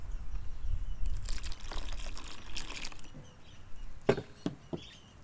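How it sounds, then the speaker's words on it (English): Half a cup of milk is poured into a flapjack pancake mixture in a bowl, a soft liquid trickle followed by a few close drips and splashes near the end, with no talking. "Add 1/2 cup of milk."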